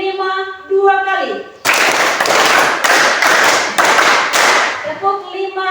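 A classroom group claps a counted five-beat pattern twice, loud crowded bursts of many hands in distinct rhythmic pulses, with a voice speaking before and after.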